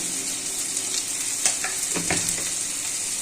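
Tomatoes and sugar frying in a pan for a Bengali potato and pointed gourd curry, a steady hiss with a few brief clatters of stirring, close up and with no talking.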